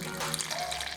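Water poured into a mixing bowl of flour, sugar and salt for a dough, a brief steady splashing trickle.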